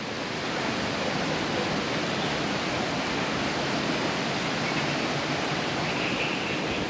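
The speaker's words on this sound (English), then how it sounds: "Another entrance into the lazy river." Steady broadband rush of water flowing through the lazy river at Disney's Aulani resort in Hawaii, continuous and fairly close, with no voices.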